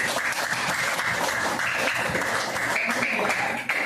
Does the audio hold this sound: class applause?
yes